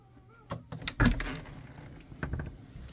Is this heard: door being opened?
yes